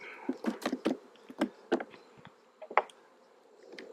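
Honey bees buzz around an open beehive during a fall honey harvest, with several close passes of buzzing wings rising and fading over a soft hum and no talk.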